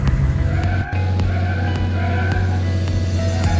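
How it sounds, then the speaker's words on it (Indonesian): A cartoon truck drives in a children's video game, its loud, steady engine drone running alongside repeated skidding and bumping effects, with one brief dropout partway through. "Kendarai truk untuk mengirimkan barang-barang."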